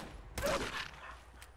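Two gunshots ring out in Fallout 4, a burst near the start and a short, fainter crack about a second later, both quiet and distant with no talk.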